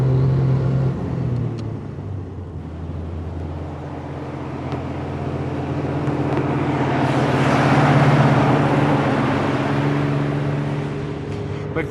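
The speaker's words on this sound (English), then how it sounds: "We're cruising at 45 miles an hour in the car's very flexible top gear." A 1938 Austin Goodwood car cruises at 45 mph in top gear on a hot day, its engine giving a steady, even rumble throughout with a gradual swell of road and wind noise toward the end.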